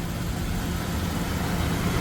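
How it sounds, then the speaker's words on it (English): Steady low engine idle from a 2001 Dodge Ram 1500 pickup after an oil change, an even, quiet rumble with no talk over it. "I'm gonna leave it idling for a little while."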